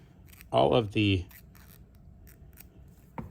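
Scissors snipping tags off dollar-store potholders, two quick close cuts with a faint click near the end.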